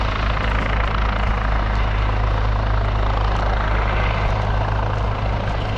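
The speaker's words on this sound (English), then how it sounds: "Yeah, it's a good chopper, man." Westpac rescue helicopter flying steadily nearby, its loud rotor thump and engine drone holding constant and unbroken throughout, with no other sounds over it.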